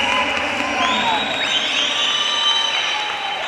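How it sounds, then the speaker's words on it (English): A swim meet crowd cheers during a girls' 1000-yard freestyle final, a steady wash of distant voices, whoops and applause that echoes through the pool hall without a break. "The crowd's starting to get into it."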